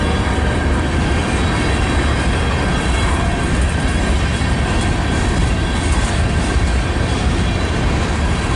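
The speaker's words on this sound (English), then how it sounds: "yeah, it's a long train." A long CSX freight train hauling grain cars rolls past at Fostoria, Ohio, giving a loud, steady rumble and roar that holds unbroken throughout, with no voices over it.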